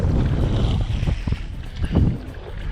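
Paddle strokes and water splashes from a Vanhunks Elite Pro Angler kayak moving into the wind, heard close under steady wind buffeting on the microphone.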